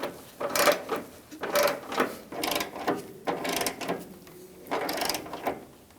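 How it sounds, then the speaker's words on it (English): Ratchet wrench snugging down headlight bolts on a Ford E-350 Super Duty van: repeated bursts of close, clicking ratchet strokes, about six short runs with brief pauses between them. "We have all bolts started, so we can snug it down too."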